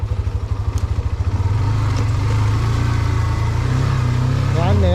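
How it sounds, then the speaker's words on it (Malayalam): A motorcycle engine idles with a pulsing low beat, then the rider pulls the clutch and blips the throttle on a downshift, and the engine note rises and holds steady and close. "ക്ലച്ച് പിടിക്കുക, ഗിയർ ഡൗൺ ഷിഫ്റ്റ് ചെയ്ത ഓൺ ദ സ്പോട്ടിൽ തന്നെ നമ്മൾ ആ ത്രോട്ടിലും കൂടെ ഒന്ന് ചെറുതായിട്ട് ബ്ലിപ്പ് ചെയ്ത് കൊടുക്കുക"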